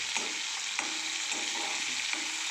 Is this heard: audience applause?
no